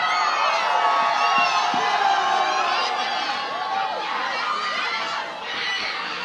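A crowd at the 2017 Shelby Township Christmas Aglow cheers for Santa, with whoops and shouts rising over a steady roar that carries on throughout.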